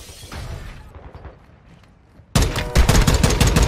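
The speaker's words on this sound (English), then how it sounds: "This gun's a single shot" A single-shot gun in a first-person shooter video game fires as a loud, abrupt burst of sharp cracks that follows quieter in-game movement sounds.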